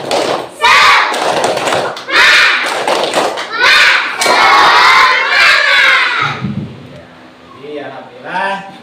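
A class of schoolchildren shouts a spirited clapping chant in loud, rhythmic bursts with sharp claps between phrases, close and energetic, then a teacher's voice speaks as the chanting fades.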